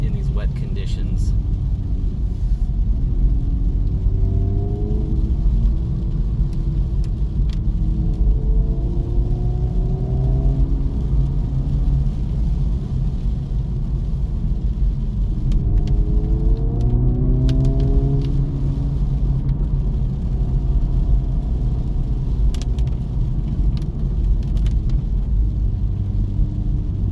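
A 2024 Acura Integra Type S on Michelin Pilot tires drives through rain on a wet road, its engine a steady low drone with rising revs through the gears and tire hiss, heard from inside under continuous talking.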